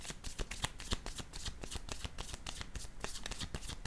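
Tarot cards being handled and laid down make a fast, soft papery riffling of many small flicks. The sound is quiet, close and continuous.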